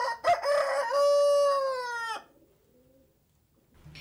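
A rooster crows once, a loud drawn-out call lasting about two seconds, followed by quiet with faint clucking afterward.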